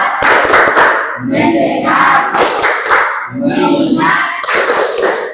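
A group stands and claps together in a repeated rhythmic pattern as a classroom ice-breaking game, loud bursts of hand claps alternating with shouted group voices and chanting.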